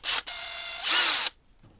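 A close, loud power tool whirs in two short bursts, briefly revving higher before cutting off, leaving near silence.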